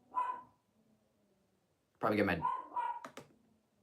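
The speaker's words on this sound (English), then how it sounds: "Why is my dog barking?" A dog barks twice from another room, a short bark near the start and another mixed under a voice talking about two seconds later, at low to moderate loudness.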